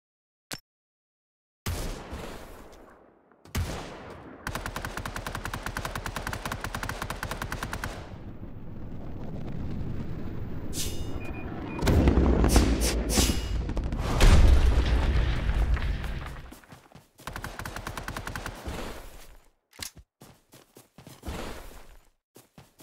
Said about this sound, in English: Warning, incoming bombardment.